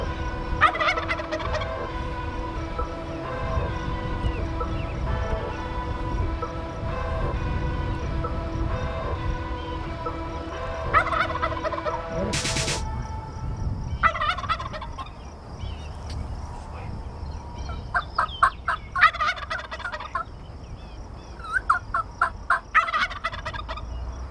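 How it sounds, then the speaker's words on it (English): Wild turkey gobblers in a Nebraska field near hunting decoys gobble loudly and repeatedly, with strong rattling bursts up close and clucks in between, over outdoor background noise. "Talk about gobbling."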